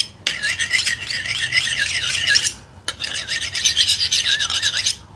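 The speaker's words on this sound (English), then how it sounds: "I'm getting my knife all sharpened up, ready to do some wonderful cooking today." A kitchen knife is drawn across a sharpener in two long, gritty rasping strokes separated by a short gap and a sharp tick, loud and near with no speech.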